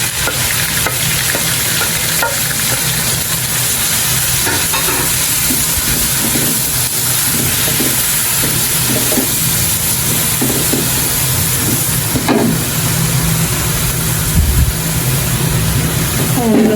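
Chopped onions fry in a pan, browning as the base for Indian butter chicken; a steady loud sizzle runs throughout with occasional stirring scrapes and clatter up close, and no talk over it.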